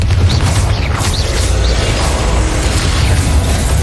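Confringo blasting spell in a Hogwarts video game, a loud continuous blast with rumbling bursts that carries on steadily with no pause.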